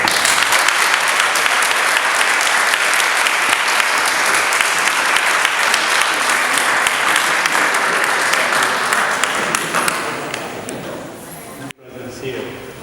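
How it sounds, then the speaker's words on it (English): A crowd at a Seattle mayoral candidate forum applauds the candidates, with loud, sustained clapping that tapers off near the end, followed by a brief silence. "Please give them a round of applause"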